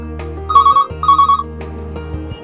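A telephone rings with an incoming call on a TV call-in show, two bursts of warbling electronic ringing over a sustained musical background, with no voices.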